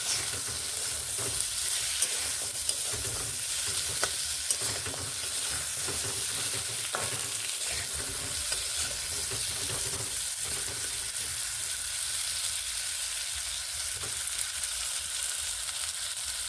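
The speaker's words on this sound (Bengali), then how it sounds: "সামান্য পরিমাণ নুন দিয়ে নিচ্ছি হলুদ গুঁড়ো হলুদ মিশিয়ে ভালোভাবে নেড়ে নিচ্ছি" Pumpkin cooks in a hot pan with salt and turmeric, a constant sizzle and hiss broken by scraping stirring strokes, close and fairly quiet with nobody speaking.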